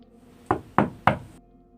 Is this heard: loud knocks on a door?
yes